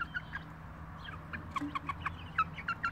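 Several young backyard chickens being hand-fed cluck softly nearby in short, repeated calls that build toward the end, over a low steady background hum, with no talking.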